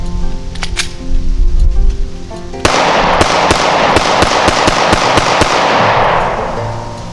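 A Taurus Millennium G2 pistol fires steel-cased ammunition in a rapid string of sharp, loud shots that run for several seconds, with a rumbling background in the early part before the shooting starts.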